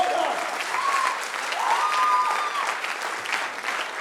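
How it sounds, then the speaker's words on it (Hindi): Crowd at a motivational speech program in Mughalsarai applauding loudly and continuously for a few seconds, with a voice briefly calling out over the clapping. "अजीत जी के लिए जोरदार तालियां हो जाए"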